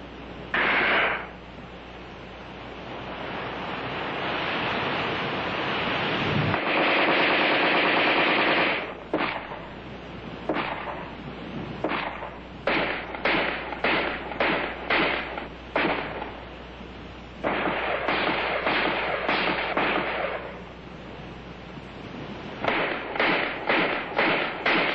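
ArmaLite AR-10 rifle firing in a sub-zero cold test with icing and refreezing, in loud bursts of automatic fire and single shots with short gaps, close and sharp, with no talking.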